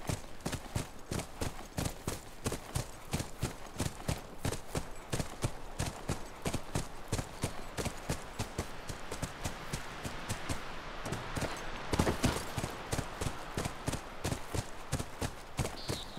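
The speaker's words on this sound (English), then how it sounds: "That's our horse." Steady, rhythmic clip-clop of horse hooves in The Last of Us Remastered at a quick, even pace throughout, fairly close, with a brief louder burst near the end.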